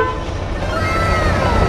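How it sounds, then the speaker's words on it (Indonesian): A loud, sustained Scania truck horn blares close by for a couple of seconds, accompanied by the low rumble of an idling engine. "Klakson."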